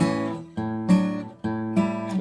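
A guitar plays a 12-bar blues progression in A, with three strummed chords about 0.6 to 0.9 seconds apart that ring out clearly on their own with no talking.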